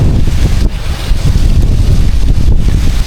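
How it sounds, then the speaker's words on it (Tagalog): Strong wind on a coastal clam-gathering spot roars and buffets the microphone continuously, loud and close, with a deep rumbling low end and no voices. "Lakas ng hangin."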